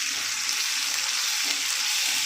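Curry leaves and ginger-garlic paste fry in a pan for a prawn curry, giving a steady, dense sizzle that holds evenly throughout without pause or voices.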